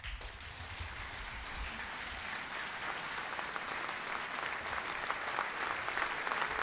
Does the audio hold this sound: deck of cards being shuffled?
no